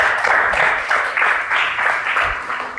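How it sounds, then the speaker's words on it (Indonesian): Classroom applause from students during a practice-teaching lesson, a short burst of rhythmic group clapping in pulses, fairly loud in a room, with no talk over it. "Tepuk tangan dulu dong biar semangat."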